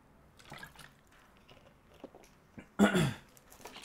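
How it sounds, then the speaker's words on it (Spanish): A drink of water is sipped and swallowed close to the microphone, with a brief burst of wet, slurping liquid near the end after quiet rustles and small mouth sounds. "vamos a dar un sorbo de agua y seguimos"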